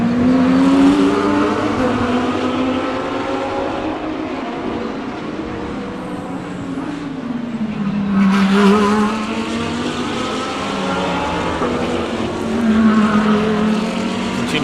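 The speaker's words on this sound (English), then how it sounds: "Aldo looking for a chance now to get through on the McLaren." Race cars, a Porsche and a McLaren, roar loudly past on a track at Dezzi Raceway, with a steady engine drone and pitch sweeps as cars pass close by. No voices are heard.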